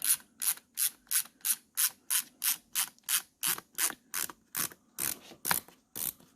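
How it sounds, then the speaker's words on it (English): Burton Photon Step-On snowboard binding being tightened, about sixteen crisp ratchet clicks in a steady rhythm, close and isolated with quiet gaps between. "Once we push it, then you get that ratcheting action."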